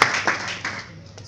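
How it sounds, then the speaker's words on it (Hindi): Members of a church congregation in Abu Dhabi clap in a few quick, moderately loud bursts that fade out fairly soon. "आए खुदावन के जलाल के लिए जोर से ताली"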